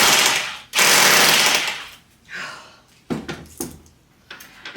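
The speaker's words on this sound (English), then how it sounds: "Cannot express to you how much better this is than the other drill." Loud power drill boring into a plaster and brick wall, long grinding bursts broken by short pauses and a few shorter stuttering bursts, close up.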